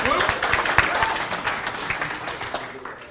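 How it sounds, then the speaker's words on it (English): An audience gives a round of applause, dense steady clapping that fades gradually over about three seconds. "why not give him a round of applause for doing good work"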